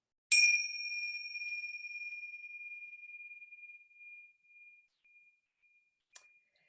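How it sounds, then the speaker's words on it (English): A meditation chime of the ting-cha type is struck once, ringing loud and clear at first and then decaying in a long, sustained tone that slowly fades to near silence, with a faint light tap near the end. "you can't hear the ting-cha chime anymore. So I'll sound it for the beginning of our practice."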